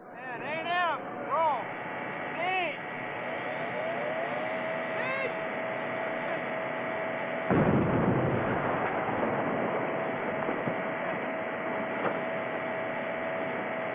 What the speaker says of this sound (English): check video monitors to see how the explosion looked to the cameras